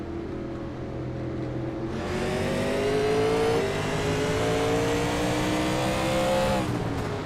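A European Sportsman drag race car launches and accelerates hard, its engine whine climbing steadily across several seconds with a brief hesitation mid-run where a gear shift is missed, then it cuts off abruptly.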